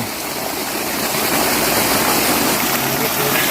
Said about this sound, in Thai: นี่น้ำไหลดีมากนะครับ